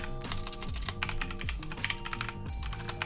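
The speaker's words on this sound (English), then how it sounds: "I'm literally just going to type that out." Quick, continuous key clicks from typing on a computer keyboard, close and clear over a faint musical background with no talking.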